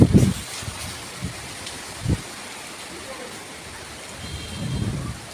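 A rainstorm with strong wind sweeps the road near a home and mango trees, a steady rainy hiss with gusty low rumbles and bumps; a voice speaks intermittently over it.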